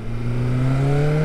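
A BMW S1000R sport motorcycle engine revs steadily under throttle, its rising harmonic drone loud and close, climbing in pitch over a continuous mechanical hum with no talk.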